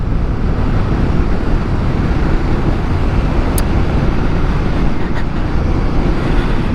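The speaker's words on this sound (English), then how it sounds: "The bike even sounds different," Royal Enfield Guerrilla 450 motorcycle fitted with a BMC air filter, riding at speed: a dense, loud, steady engine and road roar heavily mixed with wind buffeting on the microphone, with no clear speech.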